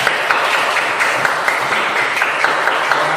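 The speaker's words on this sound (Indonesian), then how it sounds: "Tepuk tangan untuk kita semua." A class applauds together, continuous brisk clapping that stays loud and even for a few seconds with no talk over it.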